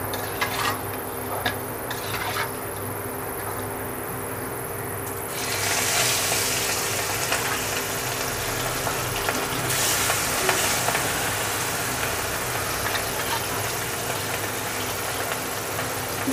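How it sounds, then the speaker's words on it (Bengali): Hilsa fish rubbed with salt and turmeric frying in a little white oil in a wok, a steady broadband sizzle that swells and stays constant after a quieter start, with no voices. "এবার এতে আমরা মাছটা ভেজে নেব।"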